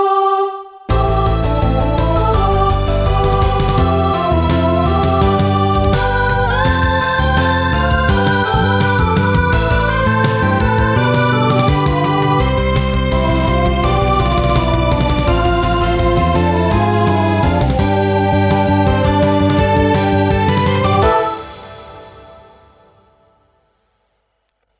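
Recording of an anime pop song, the ending theme of Love is War, with full band, busy drums and vocals, dense and loud throughout before fading out at the end.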